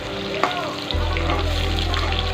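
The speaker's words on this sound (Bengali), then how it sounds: "লম্বা লম্বা করে কেটে রাখা আলু দিয়ে ভালো করে ভাজতে হবে" Long-cut potato strips fry in hot oil in a pan, giving a loud, steady sizzle that runs the whole time, with a brief clunk early on and a low hum joining partway through.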